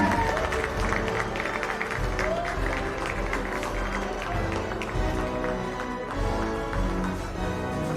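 Sustained applause from an audience at a corporate long service awards ceremony, a steady wash of many hands clapping that holds for several seconds, with muffled voices and a low hum underneath.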